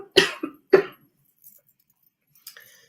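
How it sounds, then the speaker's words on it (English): Two short, dry allergy coughs close by, followed by faint rustling and quiet handling noises. "Allergy cough."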